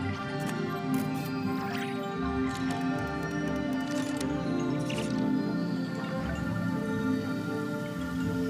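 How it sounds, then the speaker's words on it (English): Steady rain falls in an in-game scene from Genshin Impact, a continuous even patter with scattered sharper drip-like taps, alongside a sustained tonal musical bed throughout, with no talking. "Taking shelter and listening to the rain cleanse the earth makes me feel safe"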